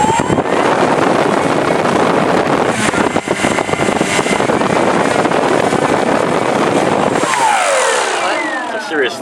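An electric RC airplane motor and propeller on a Value Hobby Aeromax 68-inch Big Stik .60 roars steadily at full power during a run-up test at a flying field, loud and close, then winds down near the end.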